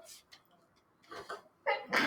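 A quick, sharp sneeze bursts out near the end of a classroom lecture after a quiet stretch with soft breathing and faint rustling, close and fairly loud.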